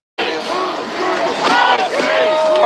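A protest crowd erupting after an ICE-involved death shouts and cries out loudly together, a dense wall of raised voices that swells and holds steady throughout, with no single speaker standing out.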